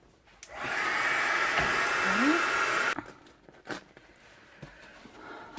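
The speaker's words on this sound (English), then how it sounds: "I'm gonna go in with heat gun." A steady, loud blowing hiss runs for about two and a half seconds, then cuts off, leaving faint tapping and handling sounds.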